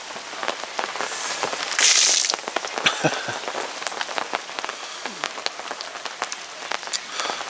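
Rain patters steadily on a canopy over a carp angler's shelter at a fishing lake, a dense crackling hiss with a brief louder burst of heavier drops partway through and no voices.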